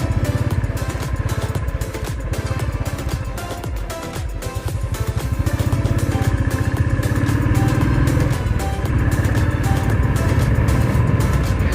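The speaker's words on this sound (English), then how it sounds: "So let's start the bike and let's take a round" A Royal Enfield Thunderbird 350 BS3 motorcycle engine runs steadily with a deep, thumping mid-range drone that holds loud and close throughout, with no talk over it.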